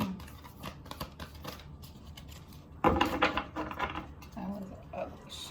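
A deck of oracle cards being shuffled close by, soft riffling and slapping that swells into a denser, louder burst midway, with quiet rustling and handling around it.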